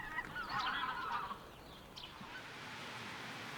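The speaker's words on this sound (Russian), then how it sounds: "На осенних и весенних миграциях встречаются многочисленные стаи гусей." Faint, distant honking from a migrating flock of geese, a few overlapping calls early on before fading into quiet outdoor ambience.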